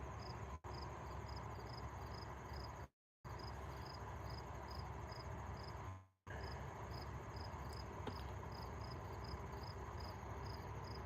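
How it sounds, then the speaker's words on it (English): Crickets chirp at night in a steady, regular pulsing pattern, faint and distant against a constant low background hum, with two brief dropouts in the recording. "Can y'all hear the crickets like chirping?"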